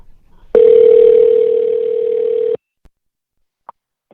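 Outgoing telephone call ringing on the line: a single steady electronic ring tone held for about two seconds, then near silence with a few faint clicks.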